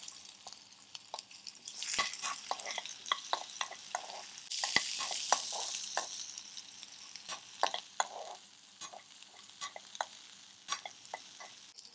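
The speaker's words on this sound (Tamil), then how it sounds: "சின்ன வெங்காயம் சேர்த்துக்கிறேன்." Small shallots with curry leaves sizzle in hot oil in a pan, with a steady crackle broken by sharp spoon scrapes and taps against the metal, close and clear.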